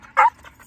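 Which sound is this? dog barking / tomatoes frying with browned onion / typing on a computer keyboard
dog barking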